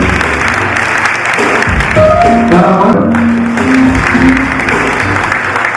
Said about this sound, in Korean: 박수 내주시기 바랍니다.